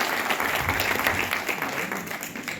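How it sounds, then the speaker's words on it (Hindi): Audience applause welcoming an honoured guest at an award ceremony in Indore, a steady wash of many hands clapping together, fairly loud and sustained, with no talk over it. "एक बार जोरदार ताली बजाकर उनका स्वागत करिए"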